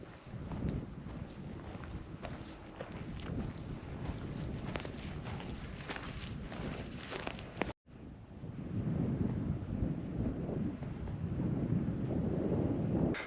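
Wind gusting across an open upland hillside beside a fence line, a steady broadband roar and microphone buffeting that runs throughout, with one brief dropout near the middle and no talking.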